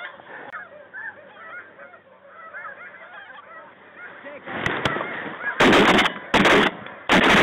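Snow geese honk steadily in a fall hunt, then several loud, close shotgun blasts erupt in quick succession over the calling flock near the end.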